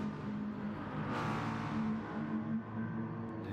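Race cars, including a Viper, roar through a tight chicane in a racing video game, their engines holding a steady, close drone with slight revving swells throughout.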